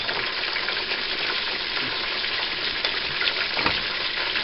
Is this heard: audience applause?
no